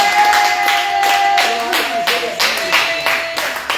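A church congregation claps in a steady, rhythmic beat to acclaim the Lord, the loud, close claps repeating evenly while voices sound faintly underneath.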